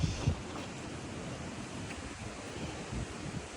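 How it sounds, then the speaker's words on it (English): Water pours steadily over a small dam on a river, a continuous broadband rush at moderate distance, slightly gusty with no voices. "They have a little dam waterfall over there"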